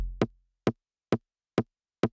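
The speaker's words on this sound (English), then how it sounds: "Then I have this snare over here that sounds like this." Snare layer on an Elektron Syntakt, placed four on the floor right on the kick beats: five short, dry, bright hits evenly spaced, alone after a brief low tail at the start.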